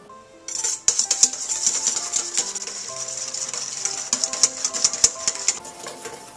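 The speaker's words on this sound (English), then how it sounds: "Then we want to beat the yolks with a whisk until they're light in color and texture" A whisk beats egg yolks in a bowl for eggnog, giving a quick, uneven run of light metallic clicks and taps against the bowl, close and fairly soft.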